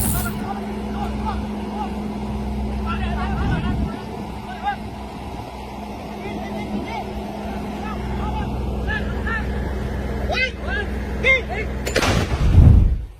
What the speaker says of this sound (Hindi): एडवांस तोप दाग रहा है थाईलैंड